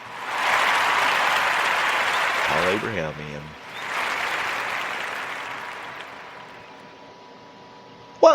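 Loud applause from a small group runs for a few seconds, breaks briefly while someone speaks, then returns and gradually fades.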